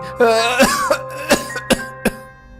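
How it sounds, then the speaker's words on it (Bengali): An old man in a cartoon coughs several times in short, harsh bursts, close by, with a brief throat-clearing sound at the start. "তুই অমন করে কাশছিস কেন আজ?"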